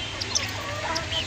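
A brooding hen sitting on her eggs, clucking softly and close by in short, irregular calls over a steady background hum.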